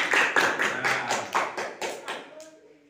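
A group claps hands in a classroom lesson, a series of about nine sharp, evenly spaced claps in a steady rhythm, loud and close, trailing off at the end.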